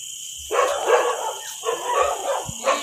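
Outdoors in rural Bone, Indonesia, a dog barks in several rough, closely spaced bursts that sound fairly near and loud over a steady insect-like hiss.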